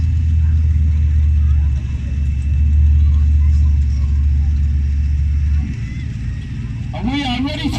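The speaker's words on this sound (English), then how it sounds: "Then the truck is backed into position." A monster truck is backed into position at a show, its engine giving a steady low rumble for several seconds before easing off, and a voice comes in over a loudspeaker near the end.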